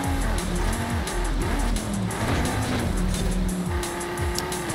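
A car racing in Forza Horizon 5, with an engine revving up and down through gear changes, tyres squealing through corners and a loud, close, continuous roar, no voices.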